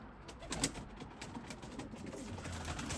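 Limoni breeding pigeons in a loft coo softly and indistinctly against a quiet, steady background.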